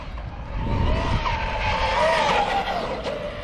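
An RC car on a Turnigy LiHV LiPo battery makes a speed run, a loud continuous motor whine with rising pitch and tire noise rushing past close by for a few seconds.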